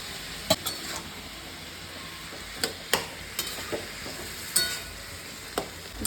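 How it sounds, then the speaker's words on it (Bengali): Fried potato pieces are tipped into cabbage frying in a pan, a low steady sizzle broken by several sharp spoon clacks and scrapes spaced a second or so apart, quiet and close with no talking. "এবার আমি আলুগুলো দিয়ে দিচ্ছি"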